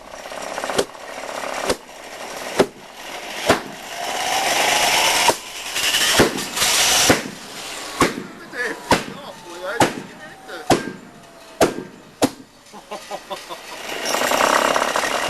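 A homemade backyard jet engine built from scrap parts (old car exhaust, tin cans, vacuum hose) sputters through its start, sharp irregular pops and bangs over a loud roaring hiss that surges and drops.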